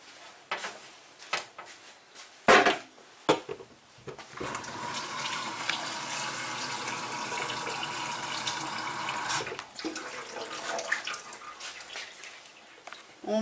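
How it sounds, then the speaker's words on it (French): Water pours steadily from a tap into a saucepan, a continuous broadband rush after a few clanks and knocks at the start, stopping briefly near the end. "on va mettre de l'eau."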